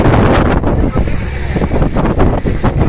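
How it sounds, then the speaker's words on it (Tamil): Strong wind roars and buffets steadily throughout, with broad rushing noise like gusts at sea; no voices. "காத்து இப்போ உரமா தெரியுது, உங்களுக்கு தெரியுமா?"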